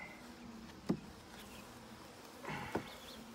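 Honey bees buzz around an opened beehive during a beeyard inspection, a faint steady hum with a couple of brief louder passes as individual bees fly close.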